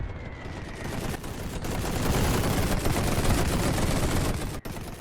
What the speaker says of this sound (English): I forgot about the machine gun